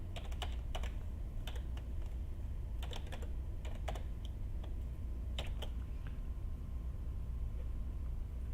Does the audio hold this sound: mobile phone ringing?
no